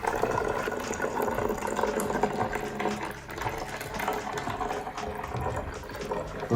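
Vinegar poured into baking soda for a homemade volcano eruption, a continuous fizzing, bubbling pour that stays steady and fairly loud throughout, with no talking.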